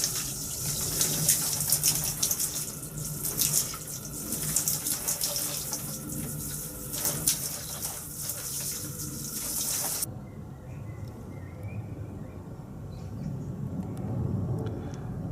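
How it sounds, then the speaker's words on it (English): Water is sloshed and splashed across a greenhouse floor on an allotment, a steady rushing spatter that runs for about ten seconds, then gives way to quieter trickling and dripping with soft outdoor background. "it's a good idea just to throw some water on the floor, just so it cools the atmosphere down"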